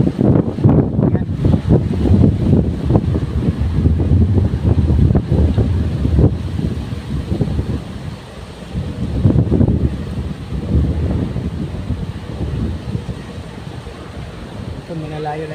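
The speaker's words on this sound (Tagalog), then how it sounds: "Masarap ang simoy ng hangin dito sa Bukirin." Strong wind buffets the microphone outdoors in an open rural field with a constant low rumble, while a person talks over it at times.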